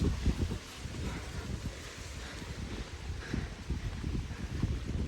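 Strong, cold wind gusting steadily through a village in a mountain valley, a constant low rushing roar with buffeting bursts, close and loud with no voices.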